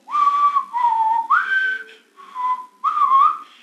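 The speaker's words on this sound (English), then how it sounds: "it was the whistle of the song" A whistled melody from a rap song, a few clear sustained phrases rising and gliding, loud and close with short pauses between phrases and no voices.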